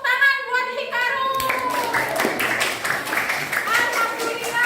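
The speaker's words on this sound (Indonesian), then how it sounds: "Tepuk tangan buat Hikaru." A primary class of sixth-grade pupils breaks into clapping for a classmate in a school lesson, starting after a voice speaks and continuing as scattered, lively hand claps with children's voices mixed in.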